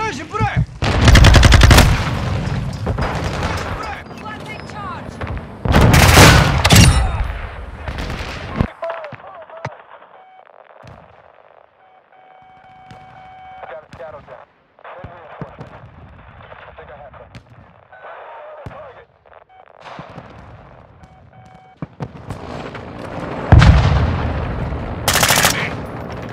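Heavy gunfire and blasts in a Call of Duty MW II ground war invasion, with loud bursts early, mid-clip and near the end, between quieter stretches holding fainter shots and a game voice speaking.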